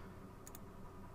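A computer mouse gives a quick double click, two faint, sharp ticks close together against a quiet room background.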